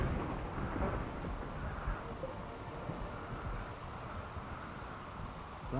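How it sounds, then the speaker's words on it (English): A rainy thunderstorm in a video game: steady heavy rain hisses throughout while low, rolling thunder rumbles beneath it, continuous and fairly loud with no talking. "And a rainy thunderstorm rolls in."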